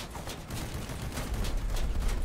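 Shotgun fire in the Crossout vehicle combat game, a fast rough stream of rattling blasts blended with engine and battle noise, fairly quiet and continuous.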